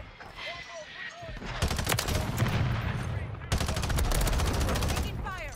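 Striker 9 submachine gun fire in Modern Warfare 3, sounding as loud rapid automatic bursts in two long stretches, with game effects and chatter around them.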